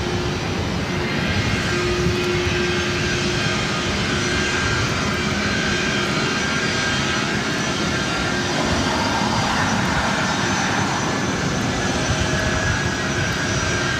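A jet aircraft at LAX airport roars continuously and loudly at close range, a broad, sustained engine wash that holds steady for the full stretch.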